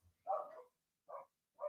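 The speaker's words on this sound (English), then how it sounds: "I don't want that barking" Dogs barking outdoors in a yard, one longer bark followed by two shorter ones spaced about a second apart, moderately near with silence between.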